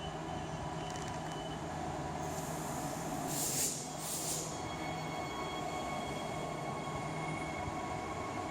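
A train rumbles steadily through Cockburn Central railway station on Perth's Mandurah line, with a brief hissing swell in the middle of the passage and no voices.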